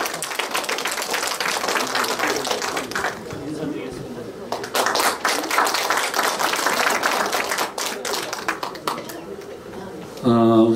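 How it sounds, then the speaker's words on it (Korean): Audience at a Korean humanities lecture in Daejeon applauds to welcome the lecturer, a sustained crowd clapping that fills the room for about ten seconds, with chatter under it and a voice entering at the end. "우리 강사님 앞으로 모실 때 큰 박수로 응원해 주시기 바랍니다"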